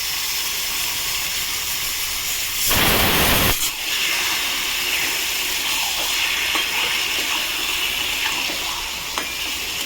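Bombay duck fish dropped into a hot pan of spiced oil, a sudden loud burst of hiss that eases into a steady close sizzle running on to the end.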